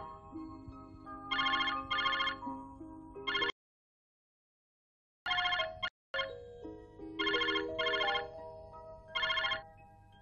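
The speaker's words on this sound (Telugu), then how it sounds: "అదిగో మీ డాడీ ఫోన్ అనుకుంటాను" A phone ringtone plays a melodic electronic tune in repeated bursts, stopping for a couple of seconds and then resuming, with no one speaking.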